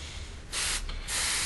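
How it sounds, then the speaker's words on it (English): Airbrush or spray can hissing paint into the interior of a Revell 1/72 Lancaster plastic kit, two close steady bursts of broadband hiss separated by a short pause, no talking. "And I spray the inside."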